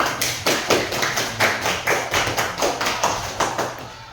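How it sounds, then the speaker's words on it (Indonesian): Schoolchildren in a primary classroom clap loudly for a classmate, a fast, even run of sharp claps that holds steady for several seconds, fairly close. "Tepuk tangan yang keras untuk Rafael."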